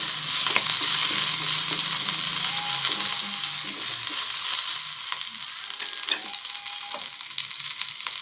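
Green chilies, dried chilies and garlic sizzle in hot oil with mustard and cumin seeds for a tempering, a loud continuous close frying hiss broken by occasional pops and the scrape of a stirring spoon.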